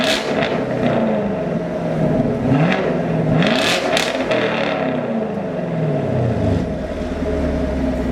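A sixth-generation Chevrolet Camaro SS engine with the muffler deleted revs repeatedly, rising and falling in pitch with a loud, steady rumble throughout.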